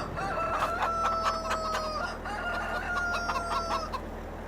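Roosters on a farm crow twice in succession, each call long and fairly clear over a steady low background hum, with no talking.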